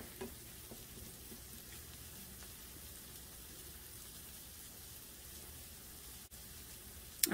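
Scrambled eggs cooking in a pan: a steady, soft sizzling and frying hiss, continuous and faint, with a light clack near the end.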